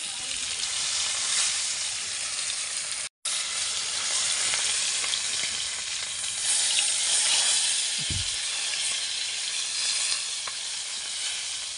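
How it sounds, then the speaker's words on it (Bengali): Fish fries in hot oil in a pan with a steady, loud, crackling sizzle that runs almost without a break, cut by one brief silent gap and a soft low knock. "মাছ ভাজছি"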